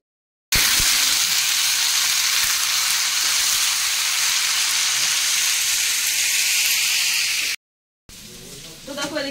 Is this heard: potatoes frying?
yes